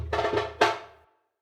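A quick electronic drum fill built in Serato Studio for a house track, a few rapid hits followed by one harder accent that decays into silence, punchy and dry.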